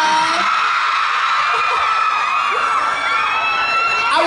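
A large crowd of fans at a Bang Yedam fan meeting in Bangkok screams and shrieks continuously at high pitch, loud and sustained, with many overlapping voices cheering together.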